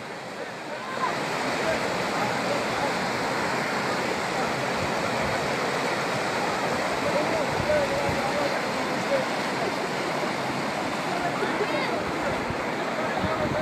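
The Aragvi river flowing beside an evening campsite, a loud, steady rushing roar of water filling the scene, with faint voices under it.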